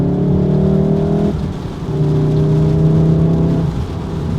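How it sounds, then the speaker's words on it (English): A 2019 Volkswagen Golf R MK7.5 drones steadily from inside the cabin while driving, its induction and engine note holding loud and even, dipping briefly once as the revs shift, with no talking over it. "you guys can definitely hear the induction noise is different"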